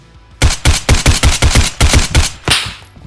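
Rifle shots fired in the VR shooter Geronimo ring out as about nine sharp, loud reports in fairly steady succession, near and punchy, with a final shot trailing into a brief echo.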